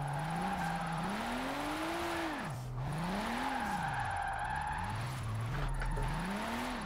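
A car drifting in a racing sim driven on a 900-degree wheel, engine rising and falling with throttle changes over continuous tire skidding and squeal, loud and steady throughout.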